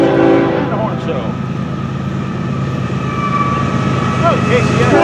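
A BNSF freight train rolls past nearby with steady, loud rail rumble and wheel noise throughout. A horn tone is not clearly picked out, and there is no talk.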